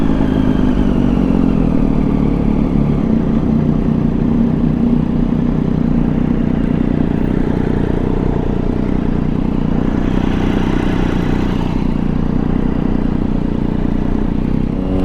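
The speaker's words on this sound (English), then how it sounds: "I don't know what's up with my bike. It feels fine, sounds fine, still got the right amount of power" Steady, loud engine drone from a Triumph Daytona 675 sport motorcycle, running continuously at an even pitch with some clatter, close up and with no talking.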